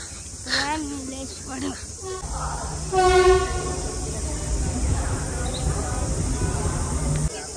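A Konkan Railway train rumbles along with steady rolling noise, and its horn sounds once, loud and close, partway through; a voice talks briefly at the start.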